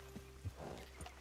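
A horse in Red Dead Redemption 2 walks with a few faint hoof clops, quiet and close, over a low game ambience.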